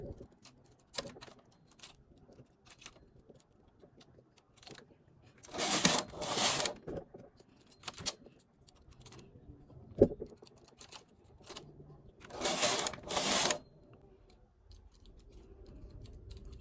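A home knitting machine works rows of a toddler sweater, with two long raspy sweeps of the carriage across the needle bed, separated by scattered light clicks and taps, close and without talk.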